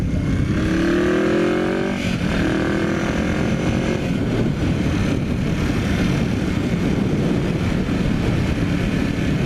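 A 1981 Yamaha XS 400 motorcycle cruises along with a steady, droning engine note, shifting pitch slightly around the two-second mark, close and continuous with wind rush.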